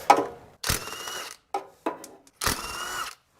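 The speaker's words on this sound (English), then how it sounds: "Let's go up and get our manifold bolts." A hand ratchet clicks in several short bursts while loosening 14 mm exhaust manifold bolts during an engine swap on a 2006-2010 Subaru Legacy Outback, with close, crisp pawl clatter broken by brief pauses.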